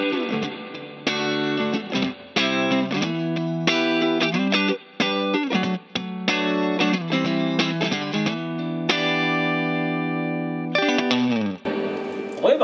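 Electric guitar chords played through an Electro-Harmonix Holy Grail reverb set to spring mode into a Boss Katana amp, strummed in choppy repeated stabs with sustained ringing chords and a washy, distorted reverb tail, loud and close.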